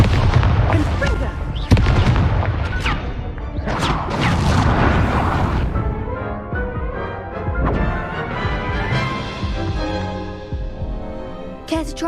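Confringo spell blasts go off in the Hogwarts Legacy video game as repeated loud booming explosions and crashes with spell effects, alongside game voices and music.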